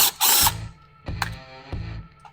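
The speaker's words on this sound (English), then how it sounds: "So it's a 17 millimeter socket for the flywheel." A 17 mm socket ratchet works the flywheel nut on an LT500R engine, giving a few close, sharp ratcheting clicks in short bursts separated by brief pauses.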